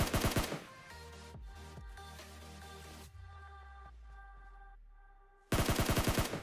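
Automatic gunfire in the battle royale game PUBG, loud rapid bursts at the start and again at the end, with a quieter stretch of game ambience and mechanical clanks in between.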